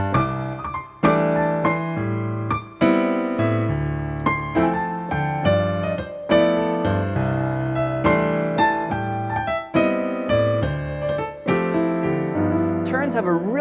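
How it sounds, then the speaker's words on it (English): A fast, flashy electric guitar lick with quick note turns and runs, played close and bright, repeated in phrases without talking. "technique number 4 is the turn technique,"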